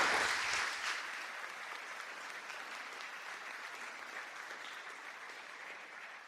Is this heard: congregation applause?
yes